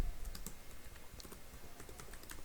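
Code being typed on a computer keyboard, soft scattered key clicks over a low steady background hum, fairly quiet and irregular.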